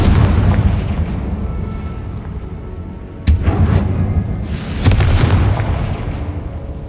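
A Confringo fire spell goes off in Hogwarts Legacy, with a loud rumbling blast, a second sharp burst about three seconds later, and a further explosive hit near the end over continuous low roar.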